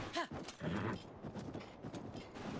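A horse trots in The Legend of Zelda: Breath of the Wild, giving a quiet run of rhythmic hoof clip-clops over faint game sounds.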